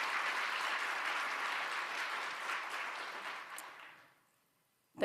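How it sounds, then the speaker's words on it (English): Audience applause at a mental health policy forum in Alabama, a dense steady clatter of many hands filling the room for about four seconds before fading abruptly into silence. "So I think, round of applause."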